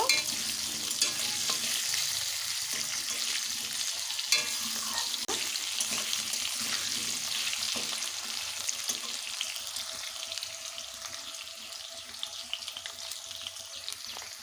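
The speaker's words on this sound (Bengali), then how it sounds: "আলুগুলোকে ভালোভাবে ভেজে নেব" Potatoes fry in a pan for a Bengali rui fish curry with potol and potato, with steady sizzling and a spoon stirring, plus scraping and clinking, continuous and close throughout with no talk.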